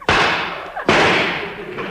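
Two sharp, booming gunshots from a radio drama shootout, close together and under a second apart, each fading slowly through a long echo.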